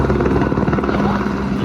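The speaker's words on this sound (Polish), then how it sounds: "w końcu słyszymy helikopter" A helicopter thrums loudly nearby at Lukla in Nepal, its rotor chop producing a steady rapid pulsing over a dense engine roar.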